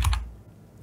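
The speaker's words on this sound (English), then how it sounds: "pardon me while I just type this out." A couple of quick, close keystrokes on a computer keyboard at the start, followed by near silence.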